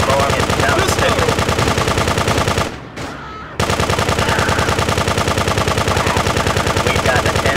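Rapid machine-gun bursts and pistol shots from the video game GTA 2, loud dense gunfire that cuts out for about a second midway and then resumes at full intensity.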